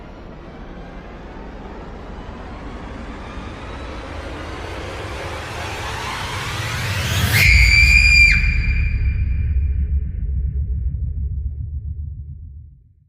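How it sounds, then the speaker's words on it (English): A loud, drawn-out scream with a sharp rising whistle-like edge swells over a low rumbling drone in a horror story, then cuts off into lingering low noise. "A scream ripped from Cassie's throat, echoing down the halls"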